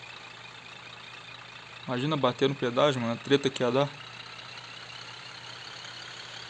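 A Scania LK V8 truck engine idles at a toll booth, a low steady drone running throughout, while someone speaks briefly over it for a couple of seconds.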